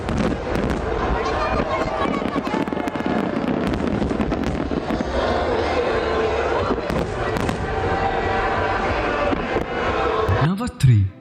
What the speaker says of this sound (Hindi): दुबई के आसपास के 400 से भी अधिक स्थानों से आतिशबाजी की शुरुआत किया गया